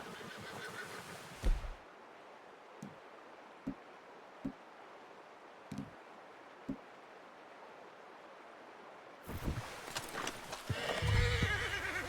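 A horse in the Red Dead Redemption II video game whinnies and clops its hooves, with a soft stream and rustling ambience underneath and a few sharp hoof knocks.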